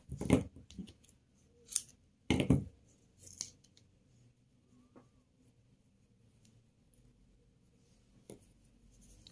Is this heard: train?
no